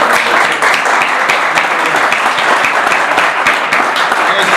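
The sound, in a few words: applause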